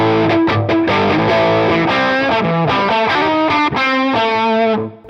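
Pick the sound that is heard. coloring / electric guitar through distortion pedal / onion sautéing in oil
electric guitar through distortion pedal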